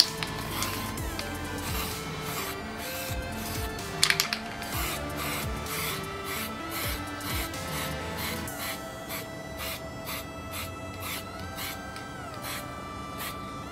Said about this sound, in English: Careful not to add too much paint at a time, otherwise you're going to get some runs